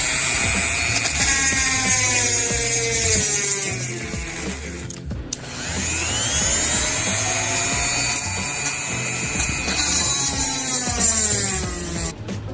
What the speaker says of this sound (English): we got the Dremel tool